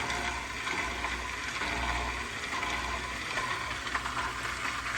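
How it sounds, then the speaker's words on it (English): Steady rushing, bubbling water noise with a low hum underneath as an aquarium filter starts pumping water, constant throughout without speech. "It's going to make this noise and it should start shooting out some water here in a second."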